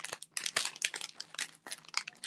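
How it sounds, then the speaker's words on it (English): Scissors cut down the side of one big sheet of plastic packaging, giving close, quiet bursts of crinkling and snipping in an irregular rhythm with short pauses between. "use my scissors and cut that."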